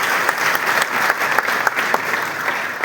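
An audience gives loud, sustained applause, a dense crowd of clapping hands with a few sharper claps standing out at intervals.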